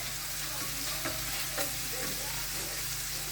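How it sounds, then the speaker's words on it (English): Bacon frying in a pan, a steady close hiss and crackle of sizzling fat with a few soft stirring scrapes, continuous and fairly loud with no talk. "we're going to let this bacon fry and get brown"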